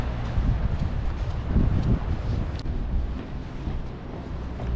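Strong wind buffets the microphone on a high hilltop beside the sea at Bamburgh Castle, a steady loud low roar with gusts swelling and easing throughout and no voices.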